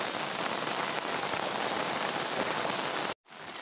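Steady, dense rain pours onto a flooded rice paddy, a continuous loud hiss with no voices, cut off by a brief silent gap near the end before resuming.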